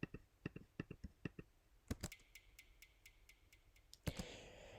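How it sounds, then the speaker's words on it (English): Short crisp clicks repeat in quick series, each echo a little softer like a delay, quiet and isolated against a faint background hiss. "I tried to accentuate that with this little click sample"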